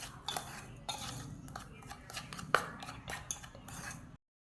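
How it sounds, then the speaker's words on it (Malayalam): A spoon scrapes and clinks steadily against a bowl while Oreo cake batter is mixed by hand at close range, with a sharper clink partway through. "അപ്പോൾ അത് ഇട്ടിട്ട് നന്നായിട്ടൊന്ന് മിക്സ് ചെയ്യാം"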